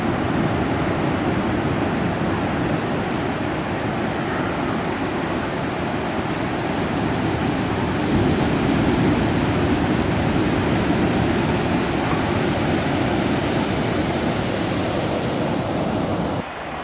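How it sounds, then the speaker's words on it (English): Rough ocean surf breaking along the South Coast of New South Wales, a continuous loud roar of crashing waves mixed with wind noise and no speech. "It is very extremely rough today."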